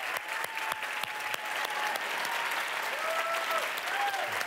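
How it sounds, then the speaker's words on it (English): An audience claps in a steady round of applause, a few sharp nearby claps standing out over the dense crowd sound, with a faint voice murmuring underneath. "Give them one more round of applause for me"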